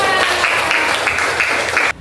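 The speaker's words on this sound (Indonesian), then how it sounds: "Tepuk tangan dulu buat kalian semua." Sixth-grade class clapping together in a classroom, a steady dense burst of applause lasting about two seconds before cutting off abruptly.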